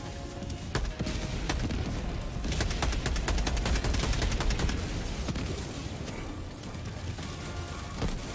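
Dense gunfire and tracer fire in the co-op video game Helldivers II, a continuous barrage of rapid shots with heavy thuds and booms layered over a loud rumbling battle background.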